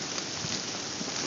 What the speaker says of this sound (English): It is raining on my gun now.